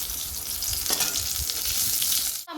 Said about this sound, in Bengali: আর আমার এখানে পটল ভাজা চলছে।